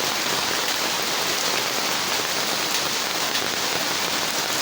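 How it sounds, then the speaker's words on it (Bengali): Heavy rain pours down outside a window in the middle of the afternoon, with dark skies and flooded fields and ponds; a dense, steady roaring hiss of rainfall stays loud and unbroken throughout. "আমি একটু ওই জালনার ফাঁকা দিয়ে বৃষ্টি ভিডিও করার চেষ্টা করছি"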